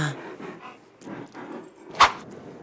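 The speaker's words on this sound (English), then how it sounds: "Oh, sniff him out, Chop, sniff him out" A dog in a video game sniffs and pants in short, close bursts. A sharper yip-like sound cuts in near the end.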